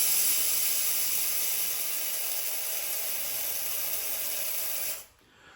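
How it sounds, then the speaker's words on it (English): Steady, loud hiss of a PreVal aerosol sprayer held upside down with the button pressed for several seconds, cutting off abruptly near the end. "I like to turn it upside down and push the spray button for about 10 seconds."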